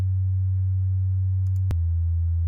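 Steady low sine tone generated in Audacity as a binaural beat, one ear tuned higher than the other, holding constant then shifting pitch with a brief click near the end, clean and alone.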